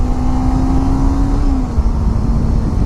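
A Kawasaki Ninja 300 motorcycle engine holds a steady high-rpm drone, loud and close, with a slight pitch dip midway and continuous road and wind noise underneath.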